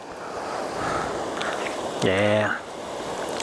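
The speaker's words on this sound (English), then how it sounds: "It's man-made. It's not a real waterfall, but still waterfalling." A man-made waterfall gives a steady broadband rush of flowing water, with a brief engine idle and a short spoken word partway through.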